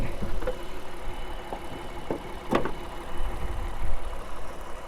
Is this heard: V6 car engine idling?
yes